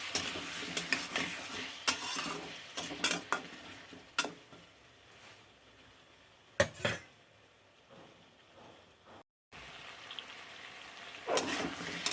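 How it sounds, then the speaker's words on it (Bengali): Small tomato pieces frying in oil and being stirred for a new-potato curry with kasuri methi, soft sizzling broken by repeated sharp scrapes and clinks of a spatula against the pan, with a brief pause near the end. "এটা এবার একটু ভালো করে কষিয়ে নেব যাতে কাঁচা গন্ধটা চলে যায়"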